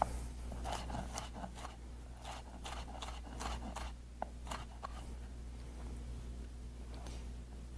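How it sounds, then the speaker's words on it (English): A knife chops food into small pieces on a cutting board while making Marsala, giving quick, light, irregular taps over a low steady background hum. "we're going to cut this again in small pieces"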